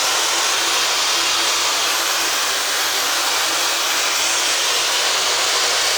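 Hair dryer fitted with a diffuser, drying hair: a steady, loud, broadband blowing roar that holds unbroken throughout, with no voices.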